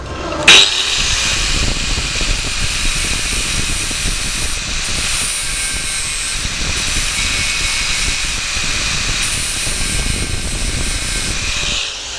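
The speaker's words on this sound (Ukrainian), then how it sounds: "відрізний кружок до болгарки" An angle grinder with a cutting disc whines steadily at high pitch for the whole stretch, a loud continuous buzzing drone with a brief sharp onset at the start.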